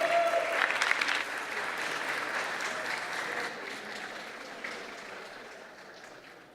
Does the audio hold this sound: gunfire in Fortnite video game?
no